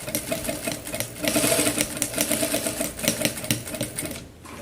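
A sewing machine stitching across a denim bathroom set with batting inside, a fast rattling mechanical whir in short bursts close by with brief pauses, no talking.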